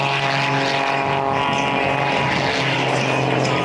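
A propeller aerobatic airplane drones loudly and steadily at an airshow, engine pitch holding even with slight wavering, close and continuous throughout.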